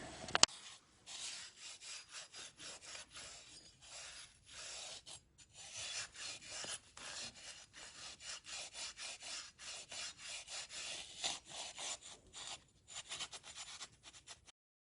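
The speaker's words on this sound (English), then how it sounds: "just taking a little Scotch-Brite pad and just rubbing it back and forth" A Scotch-Brite pad scrubs road grime off a BMW R90/6 motorcycle in quiet, rhythmic back-and-forth strokes, steady and close, with no talking.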